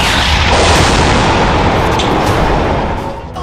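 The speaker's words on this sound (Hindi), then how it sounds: "गाजा में बम बरस रहे हैं।" Bombs exploding in Gaza, a loud, continuous rumbling roar of blasts and booms that slowly fades toward the end, with no speech over it.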